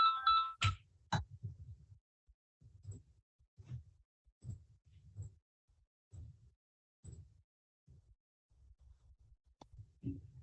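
A phone rings briefly at the start with a short electronic ringtone burst, followed by faint, muffled low thumps and rustling in a quiet room.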